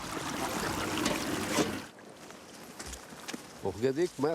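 Irrigation water on Madeira runs along an open channel, a steady rushing trickle and gurgle close by, which drops away partway through, then faint voices and a few brief sounds follow.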